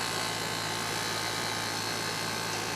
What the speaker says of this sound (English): you can hear the compressor in here